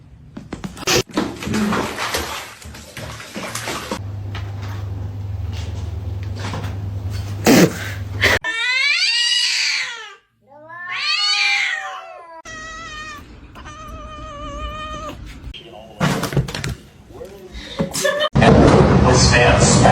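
Cat stuck in a floor meowing and caterwauling in repeated drawn-out cries, close and loud, mixed with people talking and laughing and a few thumps.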